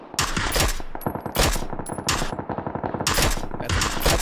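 Automatic weapon fire in the battle royale shooter PUBG, loud sustained bursts of rapid shots in three clear volleys separated by brief lulls.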